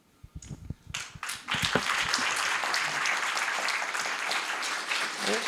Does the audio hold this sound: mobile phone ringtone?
no